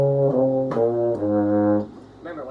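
A flat major scale played on a band instrument, a few clear sustained stepwise notes in quick succession, close and moderately loud, then cut short.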